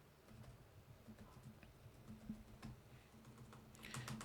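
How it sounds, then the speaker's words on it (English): Faint, scattered clicks of keys being typed on a computer keyboard over a low background hum, quiet and somewhat distant. "I'm typing wrongly, right?"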